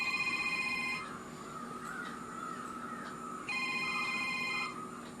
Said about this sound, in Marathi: अरे फोन वाजता बघ.